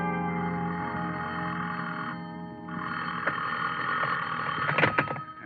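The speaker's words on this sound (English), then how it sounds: "somebody was ringing a telephone in my ears" An old-time radio drama telephone rings in repeated electric bursts, fairly loud and alone, with a short gap between rings and a brief clatter at the end.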